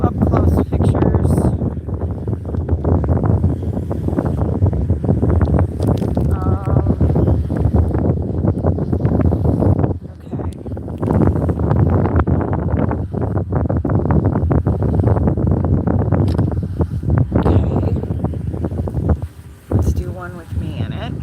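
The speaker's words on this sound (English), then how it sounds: "It's fairly windy here." Strong wind gusts buffet the microphone at a windmill farm, a loud continuous roar with brief dips, while a person talks over it.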